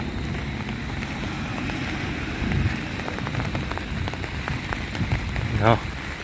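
Steady rain patters on a surface outdoors, a dense constant hiss of drops, with a brief louder splash near the end.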